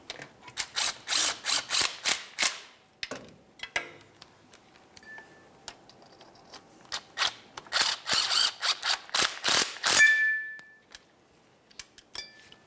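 A hand ratchet snugging starter mounting bolts on a 2005-2010 Dodge Dakota, with bursts of rapid clicking pawl ticks in fast runs separated by short pauses and metallic clinks, close and fairly quiet, with no speech.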